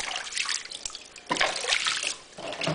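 Warm bath water for a baby splashes and trickles close by in uneven bursts, with dripping and sloshing between louder swishes.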